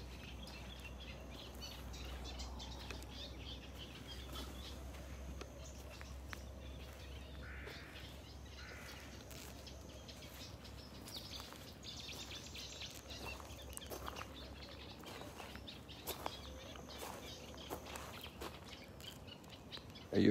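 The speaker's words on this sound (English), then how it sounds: "Hear all the birds?" Faint birds chirp and call intermittently in the distance over a low, steady rumble, with a quiet outdoor ambience and no voices.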